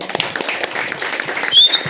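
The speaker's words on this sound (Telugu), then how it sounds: "తన క్లాప్స్ కొట్టండి ఫస్ట్" An audience at a release event claps for the anchor, scattered hand claps at moderate distance with a short swell near the end and a faint high tone drifting over it.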